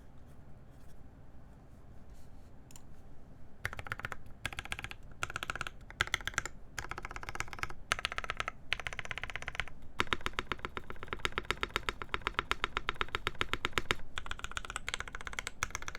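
Keystrokes on a polycarbonate-case SINGA v3 mechanical keyboard: a quiet opening, then bursts of fast, close typing with short pauses between runs, crisp clacks, no voices.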